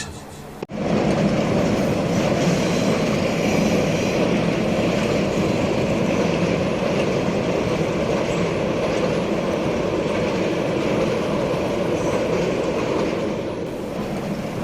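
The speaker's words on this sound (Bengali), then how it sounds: "ট্রেন চলছে" A train rumbles along in a steady, loud roar with faint rhythmic clattering, starting abruptly after a short quiet moment.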